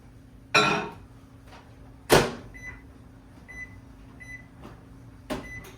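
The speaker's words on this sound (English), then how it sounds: "we're just going to throw it back in the microwave" A kitchen microwave oven reheating cream of rice gives a low steady hum, broken by two loud door or latch thuds, a few short beeps and a final clunk.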